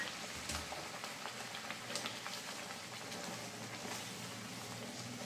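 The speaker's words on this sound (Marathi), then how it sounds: "आता मी ही मटकी टाकते." Moth beans (matki) dropped into cooked Khandeshi masala in hot oil, giving a steady, close crackling sizzle with a bubbling undertone that runs evenly throughout, no voices.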